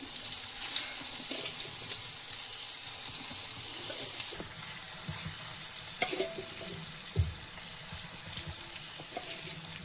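Curry leaves sizzle in hot oil while soya chunks are fried, a continuous crackling hiss with soft stirring scrapes and clinks; the sizzle eases slightly partway through.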